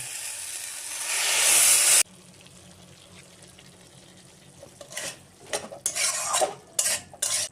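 Potato curry with spices, garam masala paste and a little sugar stirred in a pan: a loud water-like rush at first, then quieter clinks and scrapes of a utensil against the pan, with bursts of stirring near the end.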